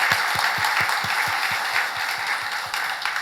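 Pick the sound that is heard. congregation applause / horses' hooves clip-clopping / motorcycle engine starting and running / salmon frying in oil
congregation applause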